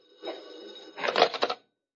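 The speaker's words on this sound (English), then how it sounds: "Suddenly, the phone rings." A short, faint burst of metallic bell-like ringing with rapid clattering strikes, stopping abruptly after about a second.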